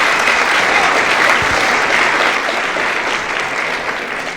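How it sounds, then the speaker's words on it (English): Dense, steady applause from a live concert audience in Washington DC in 1970, loud and sustained throughout and easing slightly toward the end. "spare no applause. Spare no applause. Just applaud away."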